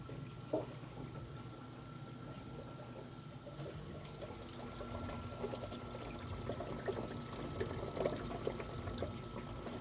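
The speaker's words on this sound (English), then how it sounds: "So that's what I can hear from the bubbling," Continuous watery bubbling and trickling from a reef aquarium, steady and fairly close, with a faint hum underneath and no voices.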